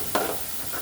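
Marinated beef kalbi ribs sizzling on a grill, a brief close hiss with a short burst of crackle, lasting under a second.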